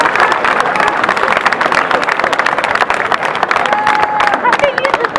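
Audience applauding the band of the National Guard of Ukraine at an Independence Day concert in Zolochiv: dense, steady clapping from a crowd that fills the whole stretch at full loudness, with a brief tone near the end.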